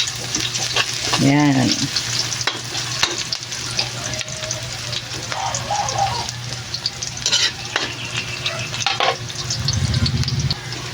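Onions sauté in a frying pan at the start of pork giniling, a steady close sizzle broken by stirring clatter, with a brief voice and occasional clanks.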